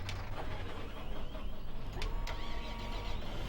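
Tractor engine idling and running in Farming Simulator 15 during a multiplayer farming session, a steady mid-low machine drone with a few brief clicks and mechanical transients over it, no talk.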